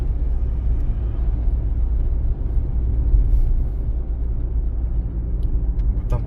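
A car sets off along a street in Sharhorod on a driving exam route, heard as a steady, close low engine and road rumble with no voices.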